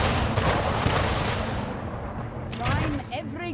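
Continuous heavy rumbling cannon fire from ships in the Anno 1800 video game, a dense rolling barrage under speech, with a voice talking near the end.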